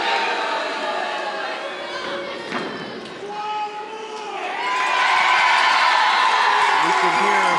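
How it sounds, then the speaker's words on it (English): A professional wrestling crowd at a one-year anniversary show roars and cheers for its favorite during the opening matchup, a dense sustained din of shouts and whoops that swells louder in the second half. "You can hear who the crowd favorite is."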